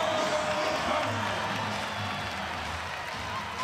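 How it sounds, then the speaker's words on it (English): Crowd noise fills a women's NCAA volleyball arena at an Oklahoma versus Kansas State match, a steady, dense roar of cheering and clapping holding at even loudness throughout, with a low murmur of commentary underneath. "you can hear the crowd"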